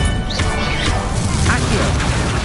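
Incendio fire spell cast in Hogwarts Legacy: a loud, dense burst of roaring, crackling magical fire and impact noise, continuous over the full stretch, with brief rising whooshing tones cutting through.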